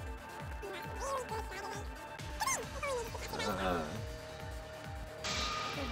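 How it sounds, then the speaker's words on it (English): A dog whimpering and yipping in the Danganronpa V3 video game: rapid repeated yelps and whines, with a bell-like ding near the end, heard alongside talk. "Boy, that is a dog."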